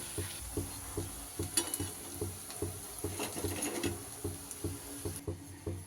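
Pea balls fry in oil over medium heat, with a soft sizzle under a run of quick, rhythmic clinks and scrapes as they are turned, ending in a brief quieter moment.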